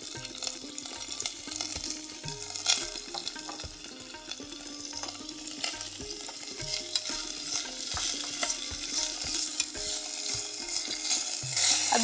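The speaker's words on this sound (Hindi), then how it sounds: "अब इस पे हम वेजिटेबल्स डाल देते हैं। सारी वेजिटेबल्स एक साथ डाल देंगे।" Mixed vegetables sizzle steadily in a pan as a utensil stirs them, giving repeated scraping strokes over the constant frying hiss, with a faint trickle of water in the background and no talking.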